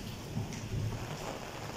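Steady rain in Islamabad city during a storm with falling drops and mist, a continuous soft wash of rainfall with low rumbling underneath, moderately quiet and unbroken.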